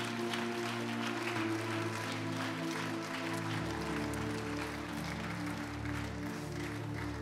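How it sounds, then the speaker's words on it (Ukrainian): A church audience applauds moderately under a steady, sustained musical drone that continues throughout, with clapping spread evenly across the whole span. "Під ваші гучні оплески, давайте ми привітаємо."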